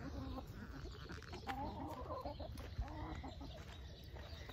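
Chickens cluck softly and steadily near a deer feeder, a busy, mid-distance flock murmur with scattered short calls and one brief knock, no voices.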